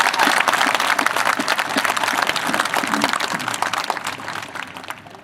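Warm applause from a commencement audience honoring teachers, a dense, steady wash of many hands clapping at close range that fades slightly toward the end.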